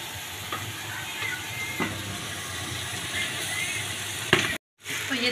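Macaroni fries and is stirred in a pan, giving a steady close sizzle with occasional scraping spoon strokes and a brief sharp clatter before a momentary drop to silence.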